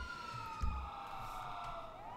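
A police car siren in the game GTA 5, a steady wailing tone sliding slowly downward over a low engine rumble, with a brief thump partway through.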